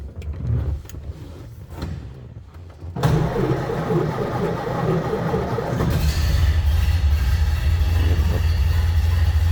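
A 1929 Ford Model A Depot Hack engine turns over after a few quiet clicks, catching abruptly and settling into a loud, steady low idle that rumbles close by and alone.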